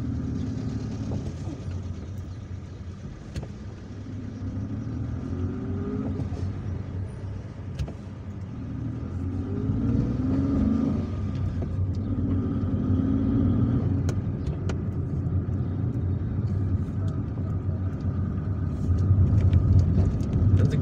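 A car drives through city streets in Algiers, near a residential apartment complex and roundabout, its engine and road noise forming a steady low rumble throughout, with no talking.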